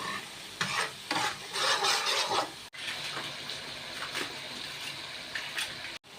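Eggs go into a spicy shakshuka sauce simmering in a pan, with a close, steady sizzle and bubbling broken by two sharp clicks.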